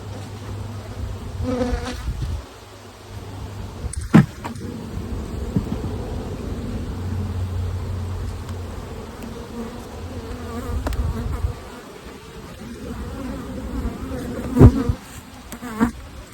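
Honeybees buzz around two nuc hives in an apiary, a dense, steady drone close by that swells and fades as bees pass near, with a few sharp knocks of hive equipment.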